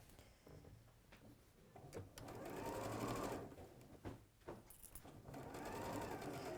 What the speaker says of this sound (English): Just hold those seams flat as you sew.